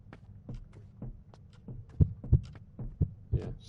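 In the Roblox horror game Blair, a heartbeat thumps in low, muffled pulses, with softer beats early on and stronger paired thuds later, heard alone without voices.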